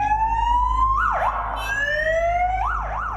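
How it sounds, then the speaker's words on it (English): A police motorbike siren being tested up close: a rising wail that breaks into quick warbling yelps, repeats the rise, then warbles again over a steady low engine rumble, with no talking. "The officer was on his way to test the sirens on his motorbike"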